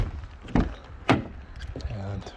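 A Volkswagen Golf 1.4 TFSI car door produces two sharp, close thuds about half a second apart, followed by lighter handling clatter against a quiet background.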